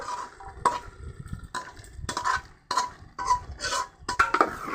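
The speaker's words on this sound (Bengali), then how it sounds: "ভালো করে নেড়ে মিশিয়ে নেব" Cooked chicken being stirred into biryani in a pot, with repeated close scraping and knocking of a spoon against the metal in an uneven rhythm.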